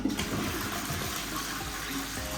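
Toilet flushing in a renovated bathroom: a steady rush of water starts at once and runs loud and close without letup, with no talk over it.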